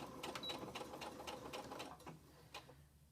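Domestic sewing machine taking a few stitches through flannel for a washcloth, then backstitching; a steady rapid needle rhythm runs close and clear, easing off near the end.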